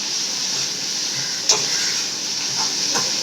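Ingredients for a homemade gravy sauté in a hot pan, giving a steady soft sizzle and hiss with a couple of faint stirring scrapes, close by and with no talking.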